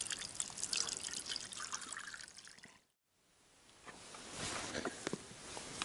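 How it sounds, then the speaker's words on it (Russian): Water poured over canned food outdoors beside a river, a faint trickling, dripping pour that stops briefly midway and then resumes, with no talk. "Чтобы консервы не бабахнули, надо залить их водой."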